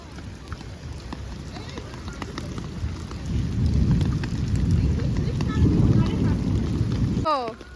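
Steady rain falls during a storm in Durgapur in a continuous hiss, thickening into a heavier rush midway, then breaks off abruptly into a brief sliding tone.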